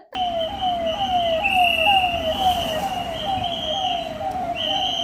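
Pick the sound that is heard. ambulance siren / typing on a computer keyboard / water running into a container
ambulance siren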